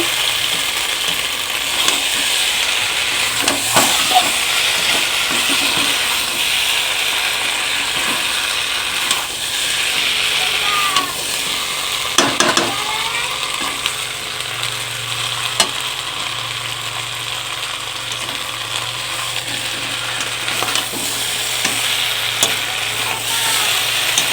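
Meat pieces, including legs, fry and sizzle in a wok as they begin sticking to the pan, with a steady hiss and repeated metallic clicks and scrapes of stirring throughout. No one speaks.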